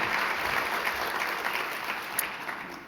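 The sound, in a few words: audience applause for award nominees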